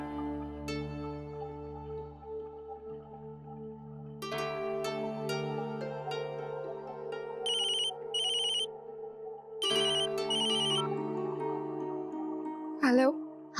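A telephone rings in a household scene, a melodic electronic ringtone repeating over a sustained musical background, with bright chirping bursts cutting in partway through, fairly loud and close.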